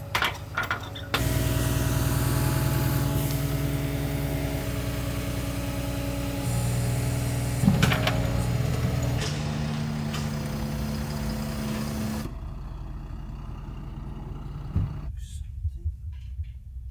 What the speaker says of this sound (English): Luke is heading out with George in the skip lorry to do a collection